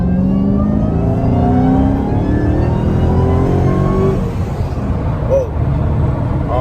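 A loud Dodge Charger Hellcat engine drones steadily with a high, rising and falling supercharger whine riding over it, like a car under acceleration.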